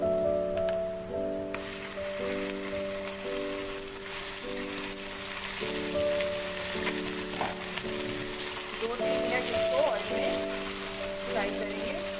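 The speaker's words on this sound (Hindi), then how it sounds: "चिकन को मैंने 2 मिनट ऑयल में फ्राई किया है।" Chicken pieces with cumin seeds frying in hot oil give a steady crackling sizzle throughout, with a repeating tonal hum from kitchen equipment running underneath and no talk.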